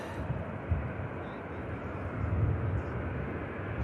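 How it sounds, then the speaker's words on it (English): An American Airlines McDonnell Douglas MD-83 jet at Manchester Airport gives a low, steady engine rumble at moderate distance, fairly faint and continuous with a slight swell toward the end. "American Airlines McDonnell Douglas as well."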